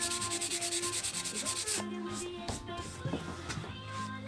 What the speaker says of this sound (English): Then I did some sanding to flush everything up, first with 100 grit and then 240 grit.